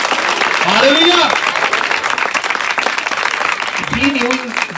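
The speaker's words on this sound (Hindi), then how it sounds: "आमीन पर उसने ताली बजाई" Congregation clapping during an Urdu-Hindi church sermon on renewing the mind, a dense steady wash of applause filling the room throughout, with a voice speaking over it.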